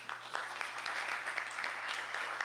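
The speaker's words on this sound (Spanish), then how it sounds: "recibamos su participación con un fuerte aplauso" Audience applause at a round-table panel event in Mexico City, a brief steady patter of clapping from a modest crowd, fairly distant and even throughout.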